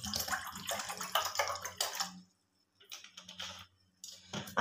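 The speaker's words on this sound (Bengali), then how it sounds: "এদিকে আমি একটা বাটি নিয়ে নিয়েছি, ওর মধ্যে দিয়ে দেব জল।" Water poured into a bowl while making flour-based syrup sweets, a soft splashing stream that stops, then two shorter trickling pours follow, faint and close.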